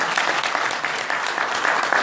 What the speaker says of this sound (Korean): 박수 한번 좀 보내주시기 바랍니다